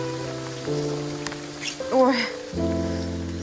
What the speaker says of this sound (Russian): Дождик сильный.